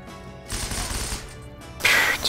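Gunfire in a shooter game, two close, loud bursts of rapid shots, the second sharper and brighter, with no talk.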